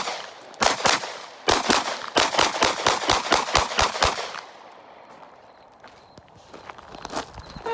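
A Glock 45 pistol is fired at an outdoor shooting range in rapid strings of loud, sharp cracks, a short pair, then a fast burst of about a dozen evenly spaced shots, followed by quieter range ambience.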